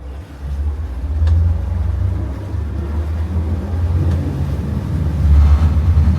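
Motors of an Antares 9 V2 holding heading and speed, a steady low hum with wind rumble that runs unbroken throughout and swells slightly near the end.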